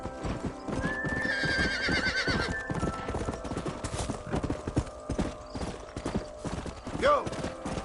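In the Red Dead Redemption video game, a herd of horses gallops through a canyon, rapid clip-clop hoofbeats pounding continuously, with shrill neighs and whinnies rising above and a voice speaking briefly.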